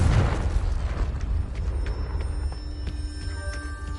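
A Confringo fire spell explodes in Hogwarts Legacy, a deep booming burst up front that decays into a lingering rumble with scattered ringing magical chimes.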